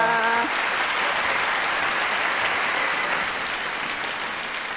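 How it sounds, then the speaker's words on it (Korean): A large audience at a speech event gives sustained, thick applause, steady and loud throughout, with a brief held tone sounding only at the very start. "우리 이분께 감사의 박수 한번 부탁드립니다"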